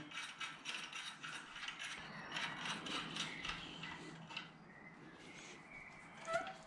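Metallic ratcheting and clicking as bolts are threaded into an engine during timing work with a tensioner, a quiet, close, irregular series of small mechanical ticks with no talking.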